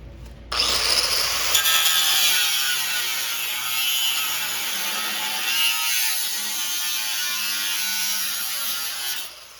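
A power tool cuts a piece of metal during dash fabrication for a Chevy cab-over van conversion, starting abruptly into a loud, steady, harsh buzzing whine that holds for about nine seconds without talk.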